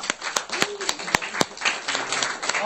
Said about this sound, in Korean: 그리고 이 자리를 빛내주신 여러분들께 큰 박수 드리겠습니다